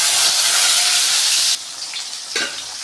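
Small onions dropped into hot oil already crackling with mustard and fenugreek seeds, a loud close hiss that drops suddenly to a softer, uneven sizzle with a brief stir.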